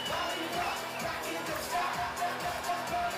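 A crowd fills the lobby of the Carnival Conquest cruise ship at a New Year's Eve pre-party, a dense murmur of chatter with loud, rhythmic thumping music pulsing underneath.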